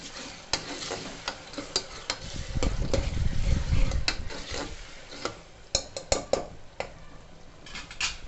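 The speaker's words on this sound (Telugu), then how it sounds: "తర్వాత బాగా కలుపుకోవాలి" Mutton curry being stirred in a cooking pan, with repeated scraping and clinking of a utensil against the metal and a soft sizzle underneath, close and steady with no voices.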